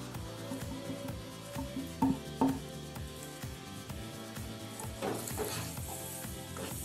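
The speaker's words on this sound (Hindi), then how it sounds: "पूरे मसाले इसमें डाल दूंगी।" Turmeric, coriander powder and other spices go into a sizzling bhindi masala gravy, giving a steady close sizzle with stirring scrapes and a couple of sharp knocks over a constant background hum.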